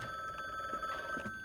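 Telephone ringing in the game The Bookwalker, a faint, steady electronic ring tone with a sustained high note and soft rhythmic pulses, quiet and alone without talk.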